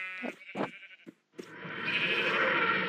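A few short, wavering sheep bleats come one after another, followed after a brief gap by a sustained rushing, hissing noise.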